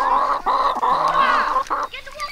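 Chickens in a winter coop cluck loudly and close up, a run of overlapping calls and squawks with short pauses between bursts.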